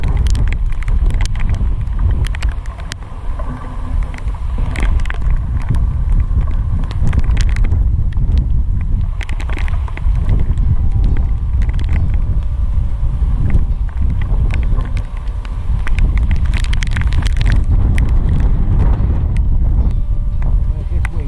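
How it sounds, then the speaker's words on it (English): Strong wind buffets the microphone beside a hidden mere at Rocklands during a June fishing trip, a loud continuous rumbling roar throughout, with someone talking faintly over it. "Where's this wind come from?"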